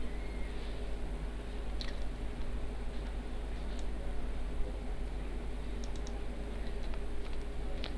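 Computer keys are tapped in a light, irregular run of soft clicks over a low steady room hum.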